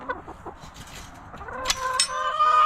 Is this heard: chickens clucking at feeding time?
yes